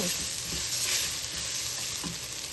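Ginger garlic paste sizzles steadily in a hot pan while chicken curry is being made, a continuous close frying hiss with faint stirring scrapes and no voices.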